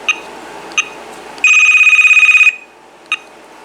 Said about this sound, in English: now let's go ahead and check out the ringtone.